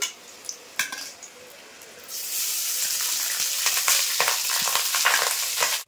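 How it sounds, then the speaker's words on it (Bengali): Cooked rice is tipped into fried masala in a pan for jeera rice, setting off a loud steady sizzle after a couple of quiet seconds with faint utensil clinks, frying strongly to the end. "এবার এই রাইসটা দিয়ে দেবো এই মশলার উপর।"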